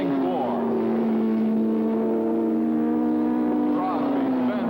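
1981 Suzuki Yoshimura superbikes racing at Daytona, engines holding a loud, steady high-revving drone with pitch sliding slightly as machines pass, continuous and fairly close.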